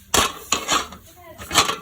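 A metal lid set over a pan of pitha batter, producing a few close clanks and scraping clinks in quick succession, with some faint background voice.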